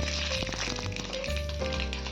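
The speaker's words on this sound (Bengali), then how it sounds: "তেলও গরম হয়ে গেছে এবার আমি কিন্তু দিয়ে দিচ্ছি কালো সর্ষে" Black mustard seeds and radhuni sizzle and crackle steadily in hot oil, a close, continuous frying hiss with small pops throughout.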